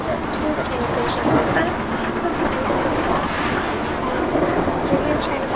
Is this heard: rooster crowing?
no